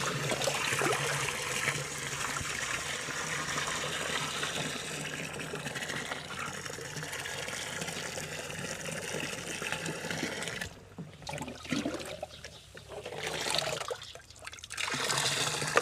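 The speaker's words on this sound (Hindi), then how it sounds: "मैं अभी इसमें 10 लीटर पानी और भी ऐड कर रही हूँ।" Ten litres of water pour into a mixture of about 2.5 kg of jaggery and water, made as an organic fertilizer. The splashing runs steadily, with a few brief pauses and splashy bursts near the end.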